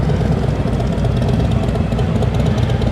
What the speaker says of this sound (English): Motorcycle audio.